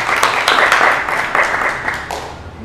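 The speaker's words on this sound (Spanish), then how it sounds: "un aplauso" Audience applause after a talk at a museum science-history event, a dense wash of many hands clapping steadily and close for a few seconds, fading slightly toward the end.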